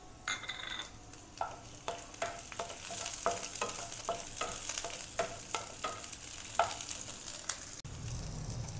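Garlic, green chilli and curry leaves sauté in oil in a pan, a steady sizzle under a series of regular scraping stirs from a spoon.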